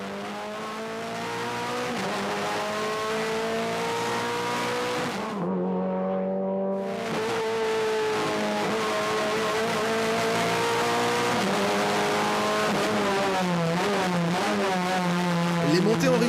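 Renault Clio Cup race car engine of just over 200 horsepower revving through the gears, a loud, sustained engine note that climbs steadily, cuts briefly at a shift, then rises again with changing pitch under a voice.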